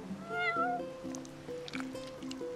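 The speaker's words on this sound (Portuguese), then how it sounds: "You're one spoiled cat." A cat meows repeatedly in the video game Final Fantasy XV, several short tonal mewing calls over a faint musical backdrop, fairly quiet and close.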